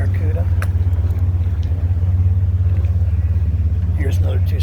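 A 1965 Plymouth with a 273 two-barrel V8 idles close by, a loud, steady low rumble with an even throb, while people talk faintly in the background at an outdoor car show.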